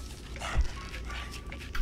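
A dog barks and yips in the video game The Franz Kafka, with a few short, close calls over a low background hum.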